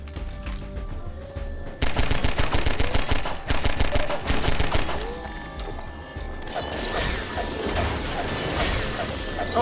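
SMG gunfire in a video game: rapid, loud bursts of automatic fire crackle in quick succession, then give way to crashing impacts and mechanical clatter.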